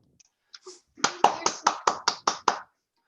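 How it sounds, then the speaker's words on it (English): An audience at the end of a scientific talk claps in a quick, even rhythm of about seven close, crisp hand claps, after a brief cheer-like voice. "Let's clap, yay!"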